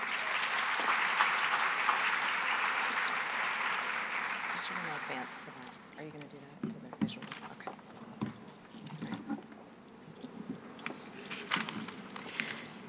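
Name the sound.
audience applause for a speaker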